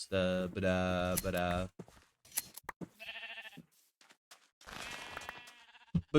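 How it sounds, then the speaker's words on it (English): Sheep in a video game bleat in several loud, wavering calls, one long bleat followed by shorter ones separated by brief pauses, close and clear with no talking over them. "More sheep."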